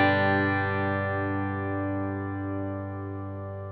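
Electric guitar through a Klon KTR overdrive pedal, a single sustained chord ringing out with a warm, mildly driven tone and slight wavering, slowly fading without talking.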